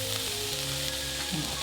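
Onions and spices, including turmeric, sizzling in a pan for a vegetable stew, a loud, steady, close crackle that runs unbroken throughout.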